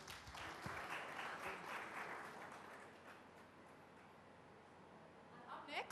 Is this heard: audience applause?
yes